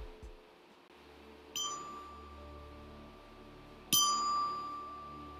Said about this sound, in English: I use one of the chimes as a bell para dun sa meditation